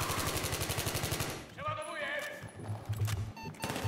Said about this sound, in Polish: Gdzie we mnie strzelasz?